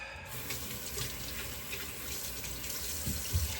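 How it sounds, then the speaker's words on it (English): Tap water runs steadily into a sink while a face is rinsed after a shave, a close, constant splashing flow with a few louder splashes near the end. "Let me just rinse the face and I'll be right back."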